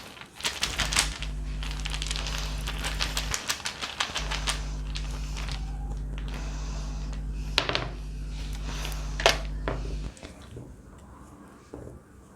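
Rune stones are shuffled for a tarot reading, giving a run of dense clattering clicks and rattles over a steady low hum, with a pause partway through and a quieter stretch at the end.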